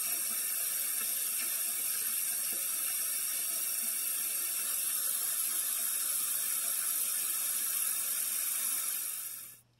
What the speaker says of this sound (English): I'm going to finish filling up the water